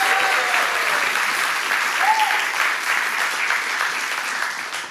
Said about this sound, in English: Yeah, round of applause, please.